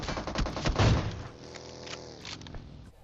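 Battle royale video game gunfire, a rapid burst of loud shots with a heavy boom in the first second, then quieter ringing and distant game ambience.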